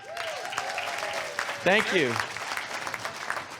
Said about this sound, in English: Can we give Julian a round of applause?